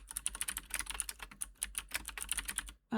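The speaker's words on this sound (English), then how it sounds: "Case doesn't matter. I'm just bad typing." Rapid, uneven typing on a computer keyboard, with dense clattering keystrokes close up and no talk, ending abruptly.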